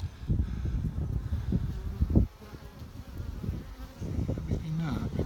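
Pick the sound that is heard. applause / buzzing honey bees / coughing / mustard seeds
buzzing honey bees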